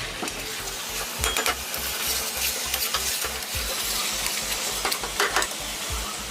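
Chicken liver and gizzard sizzle and fry in a pan with spices while a spoon stirs them, scraping and clinking against the pan in an uneven rhythm over a constant loud frying hiss.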